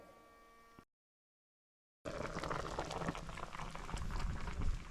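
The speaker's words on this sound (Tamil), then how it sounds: "இந்த கரைக்கிற மாவை தான் கொதிக்கிற தண்ணியில் ஊற்ற போகிறோம்." A pot of water bubbles at a rolling boil, close and steady, with the churning growing a little stronger toward the end while wheat flour batter is poured in; no talk is heard.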